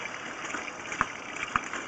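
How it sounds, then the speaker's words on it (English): Water running through a 3-inch cast iron sanitary sewer cleanout line, a steady soft trickling wash with two sharp clicks or knocks standing out, no voices heard. "Water's currently running."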